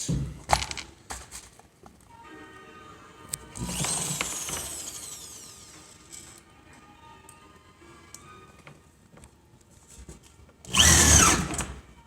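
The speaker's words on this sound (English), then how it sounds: "I then frame it with framing screws." A power drill drives framing screws into metal studs, giving short whirring bursts with metallic rattles, clinks of loose screws and handling noise, ending in a loud harsh burst near the end.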